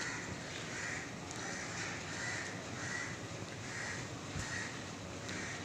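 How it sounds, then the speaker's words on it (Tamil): Crow cawing, repeated harsh caws in a steady rhythm of about one per second, moderately near over a faint, quiet outdoor background with no talk. "காக்கா வந்து கத்திக்கிட்டு இருக்கு"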